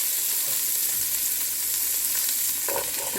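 Onions, carrots and mushrooms fry in rendered beef fat with a loud, steady sizzle, and a few stirring knocks come near the end.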